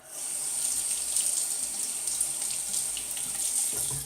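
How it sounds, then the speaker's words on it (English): A Gillette Aristocrat safety razor is rinsed under a running tap, a steady close hiss of water streaming into a sink with small splashy fluctuations as the razor moves through the flow. "Rinses off very nicely out of the razor too."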